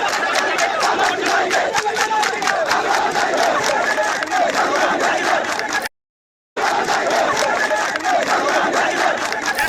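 A large crowd chanting slogans at a protest in Dharavi, Mumbai, loud rhythmic massed voices continuing steadily, broken by a brief gap of silence midway.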